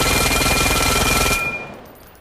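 Rapid automatic fire from a fast submachine gun in the VR shooter Vail, a dense loud burst of shots lasting over a second, then cutting off into a fading echo.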